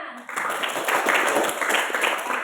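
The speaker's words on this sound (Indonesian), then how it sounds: "tepuk tangan dulu supaya semangat" A classroom of students clapping their hands together in steady, close, fairly loud clapping that starts after a brief pause and continues for about two seconds.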